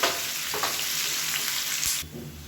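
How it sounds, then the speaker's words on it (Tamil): Chana dal, peanuts and green chillies fry in hot oil for lemon rice, a steady close sizzle and crackle with a few stirring scrapes. "கடலைப்பருப்பு, வேர்க்கடலை எல்லாமே நல்லா முறுமுறுப்பாக வரணும்."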